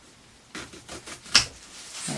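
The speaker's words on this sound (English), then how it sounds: "We're going to cut it off, seal all our wounds, and then get it outside on the bench in the sun. So I'll cut the tops off now." Short snipping and crunching cuts as the tops are trimmed off a yucca bonsai, a few quick close clicks and rasps with one sharper snap.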